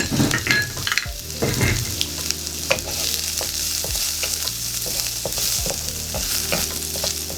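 Garlic stir-fried with browned pork in a hot pan: steady frying sizzle with repeated scraping strokes of a utensil stirring through, close and fairly loud, with no voices.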